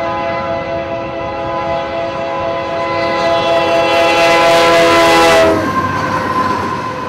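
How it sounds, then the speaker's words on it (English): The Q689 mixed freight train passing through Vienna, Georgia on a rail line, with a long, loud, steady multi-tone horn blast over the rolling rumble of the cars, then the horn stops and the rumble continues. "Q689 is a mixed freight for Waycross."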